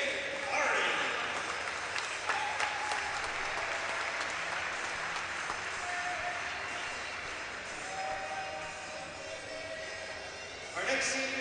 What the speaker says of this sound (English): And how about a nice round of applause for number 88, CJ Harding.